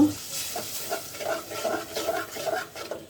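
Spices being stir-fried in a pan while cooking a tengra fish and vegetable dish make soft rhythmic scraping and stirring with a light sizzle, close and fairly quiet.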